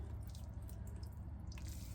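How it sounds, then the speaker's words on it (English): Water dripping and trickling from wrung-out dyed fabric pieces cut from old tablecloths and doilies, soft scattered drips and splashes, faint and close. "let's just wring this out again."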